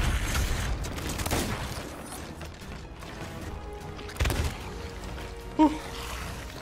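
Distant booming blasts and crashes of ship cannon fire within a noisy Sea of Thieves game soundscape, with a couple of sharper impacts standing out.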